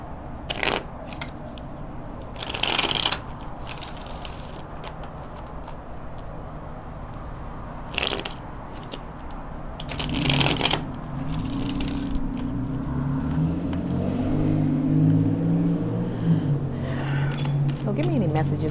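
Tarot cards are riffled and shuffled in short bursts, crisp flutters close by separated by quieter handling, with a voice talking through the second half.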